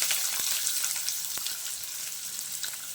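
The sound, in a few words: onions and curry leaves frying in a pan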